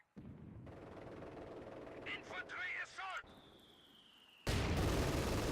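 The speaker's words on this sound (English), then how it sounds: "They have a mortar on the center there." Mortar fire in the World War II strategy game Company of Heroes 2, with muffled booming thuds and battle noise under chirpy effects, ending in a loud sustained roar, while a voice talks over part of it.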